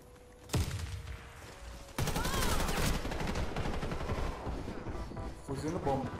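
Rapid bursts of gunfire in a ranked Warface match crack out, sharp volleys repeating over several seconds with muffled background sounds.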